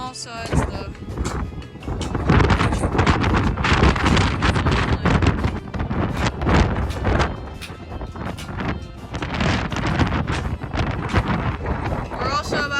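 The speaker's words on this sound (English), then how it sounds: "the weather seems to be much nicer, but it's still very, very windy" Strong wind gusting across the High Point summit in New Jersey, roaring and buffeting the microphone in loud, continuous rough waves for the whole stretch.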